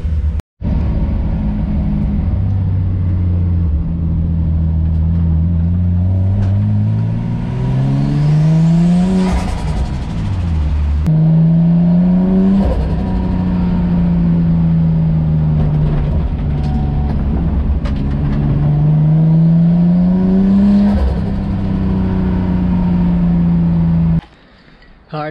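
Nissan S14 Kouki drift car with bolt-on angle mods, its engine revving repeatedly through rising and falling pitches, a steady loud drone with climbs to high revs and a drop-off near the end.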